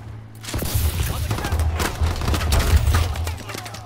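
Rapid video game gunfire from a low-overheat gun during a team deathmatch, dense bursts of shots with thumping low booms running steadily throughout, loud and close.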